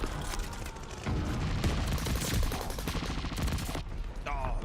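Armageddon weapon from the Call of Duty T-800 Terminator tracer pack firing in-game: a dense, continuous barrage of loud gunfire and booming impacts lasting throughout, with possible talk underneath.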